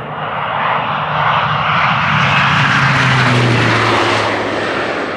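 Air Tractor 802 crop-spraying plane passing overhead while applying insecticide over farm fields, a loud droning propeller engine that swells and fades with a falling pitch as it flies by.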